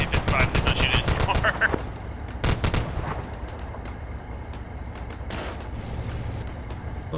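Video game gunfire aimed at a friendly city crackles in rapid volleys at first, then thins to scattered single shots over a low rumble.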